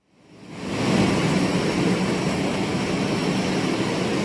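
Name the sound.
Navy plane arriving at the airport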